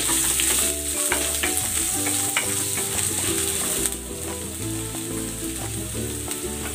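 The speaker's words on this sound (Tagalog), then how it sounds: "Gisa na ako ng bawang. At ng sibuyas." Garlic and onion sauté in a hot pan for pork ribs, a steady loud sizzle with stirring scrapes throughout, dropping slightly in level midway but continuing without any talk.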